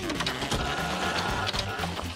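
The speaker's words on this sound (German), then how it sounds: "Ist es Zeit, meinen coolen Mini-Drucker zu benutzen?" A mini printer whirs steadily close by for a couple of seconds, a continuous buzzing mechanical drone with faint rhythmic ticks and no talking.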